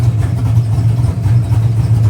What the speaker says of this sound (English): So we've been idling here for a few minutes.